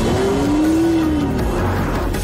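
A new Porsche 911 sports car drives by, its engine note rising and sliding in pitch over a broad rush of road and wind noise.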